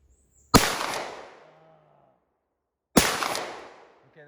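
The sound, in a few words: shotgun firing slugs at targets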